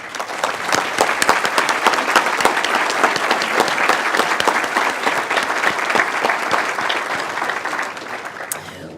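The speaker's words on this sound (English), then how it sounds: "Ladies, would you please stand while we give you a round of applause for your efforts in making tonight possible?" A banquet crowd at an ATHENA Award event applauds the organizing committee, dense sustained clapping from many hands that holds steady for several seconds before tapering near the end.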